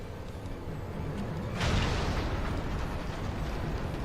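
A deep, heavy explosion erupts during an attack on a ship in Final Fantasy XIV, its main reactor hit by magitech armor; a sudden broadband blast swells in, then a long rumbling roar continues at steady loudness with no voices.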